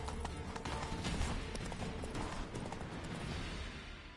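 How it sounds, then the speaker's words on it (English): Horse hooves clip-clopping in the video game The Witcher 3, a fast, steady run of hoofbeats at close range with faint background game ambience and no speech. "Whoa there, Roach."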